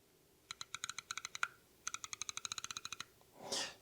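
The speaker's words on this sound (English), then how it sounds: "With the Sigma, I actually find the clickiness on the aperture ring a little more satisfying, but it's also louder, ironically." Crisp mechanical clicks from the aperture ring of a Sigma 24mm f3.5 lens, turned in two quick runs of evenly spaced detents, followed by a brief soft rustle of handling, close and clear with no talk.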